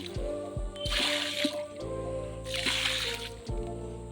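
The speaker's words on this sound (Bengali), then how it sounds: "এই সার্ফের জলটা দিয়ে ধুয়ে দিই।" Soapy water mixed from detergent powder is poured over a chilli plant in two wet, splashing bursts, each lasting under a second, over a low steady background hum.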